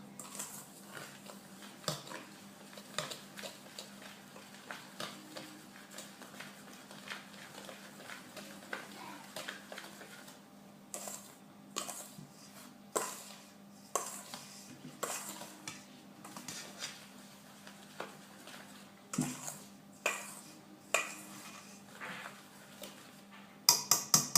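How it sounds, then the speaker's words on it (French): A utensil stirs and scrapes Christmas biscuit dough ingredients around a bowl, making soft repeated clinks and scrapes that grow louder toward the end, with no voices. "Donc on mélange bien de façon à ce que tous les ingrédients soient incorporés les uns aux autres."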